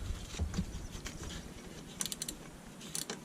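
A 1/4-inch ratchet with a 12 mm socket loosening power steering pump bolts on a Volvo XC70, heard as faint mechanical clicks followed by two quick bursts of rapid ratcheting nearby.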